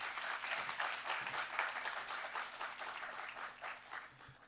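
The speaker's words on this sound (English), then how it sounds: "Let's give a warm round of applause for Dr. Daryl Gaskin and Dr. Cass-Krifasi." Audience applause fills a conference hall after speakers are introduced at a forum on health equity and gun violence, steady and sustained clapping from a crowd throughout.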